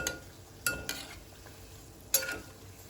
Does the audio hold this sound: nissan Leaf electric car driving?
no